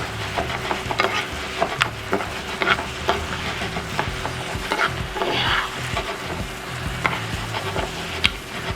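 Butter sizzling in a pan with king prawns for linguine, a steady close frying hiss broken by stirring scrapes and light knocks, with no talking.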